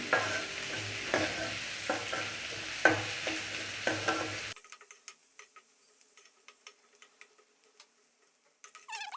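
Onions sauté with salt in a pan, close sizzling with regular spatula scrapes for a few seconds, then the frying drops away to faint scattered clicks and taps of stirring.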